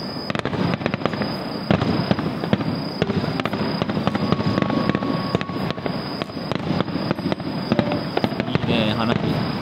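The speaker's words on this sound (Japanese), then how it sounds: "いいね、花火。" A steady barrage of fireworks bursting and crackling, dense repeated booms with people chatting in the background.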